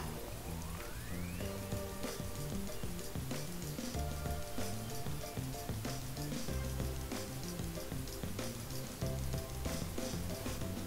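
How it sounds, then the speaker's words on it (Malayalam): Ginger garlic paste fries in hot cow ghee with a steady, dense, continuous sizzle and crackle, loud and unbroken, with faint tonal kitchen sounds mixed underneath. "ഇഞ്ചി വെളുത്തുള്ളി പേസ്റ്റ് ഇല്ലേ അതും കൂടി എന്ത് ചെയ്യുക, ഇതിൻ്റെ ഉള്ളിലിട്ട് കൊടുത്തിട്ട് നല്ലോണം ഒന്ന് വഴറ്റി കൊടുക്കുക"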